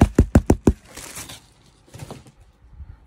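A brown cardboard packaging box is handled, starting with five quick sharp knocks on the box, followed by softer scraping and rubbing with a few duller taps, nearby and without voices.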